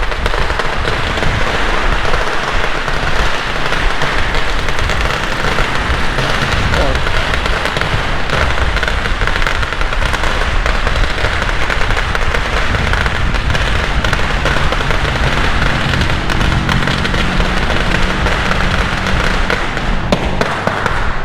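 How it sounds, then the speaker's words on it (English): Chinese firecrackers explode nonstop in a street in Hat Yai during Chinese New Year, a dense, loud, crackling barrage of rapid pops that runs for about twenty seconds without a break, with voices faintly underneath. "that's what Chinese firecrackers sound like"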